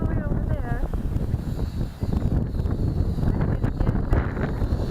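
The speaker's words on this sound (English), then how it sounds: "That's how much wind is going on right now." Strong wind buffets the microphone outdoors while a small MJX Bugs 3 toy quadcopter struggles at full throttle, a constant roaring rush with a faint high motor whine, and a voice speaks briefly over it.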